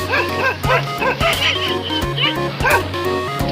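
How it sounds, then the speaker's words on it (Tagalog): Several dogs barking and yipping at a beach in Daanlungsod, Medellin, Cebu, with short, repeated barks in bursts and brief whimpers, close and fairly loud over a busy background. "Marami silang mga aso guys."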